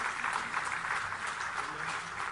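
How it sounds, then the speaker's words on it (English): An audience claps in a sustained round of applause for a speaker at a formal event in a hotel hall, a steady even patter heard at moderate distance. "Can we have a huge round of applause one more time"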